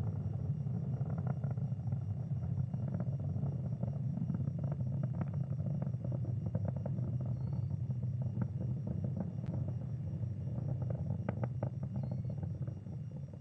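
SpaceX Falcon 9 launching Starlink satellites, heard at supersonic speed through max Q as a dense, continuous rumbling roar with crackle on top, steady and fairly loud.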